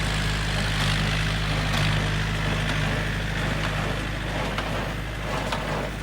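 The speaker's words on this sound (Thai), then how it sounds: "ลากพ่วงด้วยรถไถยันมานะครับ" A 49 hp Yanmar tractor pulls and drives a Massey 128 hay baler in Surin province, giving a steady, droning engine hum with a faint rhythmic mechanical clatter, continuous and without talk.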